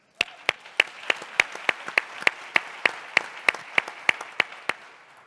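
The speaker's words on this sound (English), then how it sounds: "We also want to give an applause for all the people that they are empowering to go forward" An audience applauding at a civil rights panel event, though the sound comes across as a slow, even series of about twenty distinct, regularly spaced claps rather than a full crowd.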